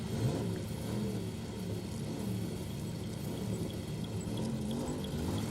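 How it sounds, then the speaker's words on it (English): A car engine revs and rumbles steadily at a moderate distance, a low droning growl with no talk. "Hear the revs."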